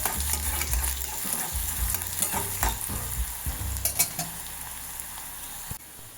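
Curry leaves sizzle in a hot pan while being stirred, a bright continuous frying hiss with scraping utensil strokes and low clatter close by, no talking.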